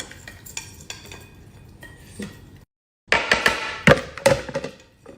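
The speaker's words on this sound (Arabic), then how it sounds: "وبنخلطهم، وبتكون صارت عنا أطيب سلطة معكرونة" A spoon scraping and clinking against a bowl while pasta salad is mixed, with a soft, sparse start, a brief pause, then louder, busier stirring and knocking close by.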